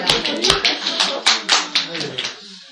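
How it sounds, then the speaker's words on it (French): A group in a religious lesson on Purim claps in a quick uneven burst that thins out and fades, with a voice briefly mixed in among the claps. "On applaudit."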